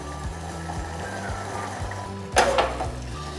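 Jaggery and sugar melting in a pan over low to medium heat for a South Indian chakkara pongal, a soft continuous sizzle with a steady rhythmic scraping of a spoon, then a brief louder clatter near the end.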